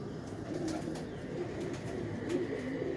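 Pigeons coo softly and steadily in a quiet setting, with low murmuring calls overlapping throughout.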